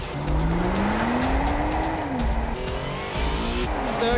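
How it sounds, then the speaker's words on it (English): A Volvo race car launching off the line at a drag race start, tires spinning and squealing as the engine note climbs steadily through the revs, loud and continuous with a gear change partway through. "Let's go for another drag race. The clutch is horrendous. Okay, here we go. Wheel spin, wheel spin."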